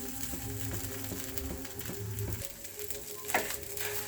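A round, flatbread-shaped snack fries in a pan with a steady, close sizzle that runs throughout, along with a low background hum.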